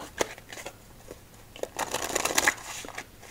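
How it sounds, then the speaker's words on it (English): Casino-quality playing cards are shuffled up close, with soft riffling flutters and taps building into a denser burst of card snaps. "Let's get shuffling. Casino quality cards, so you know they are good."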